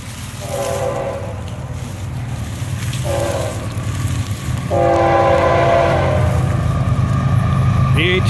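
Florida East Coast Railway train 101 rolls past on an evening run, its horn sounding in short and longer blasts over a steady rumble of wheels and engines that grows louder and closer toward the end.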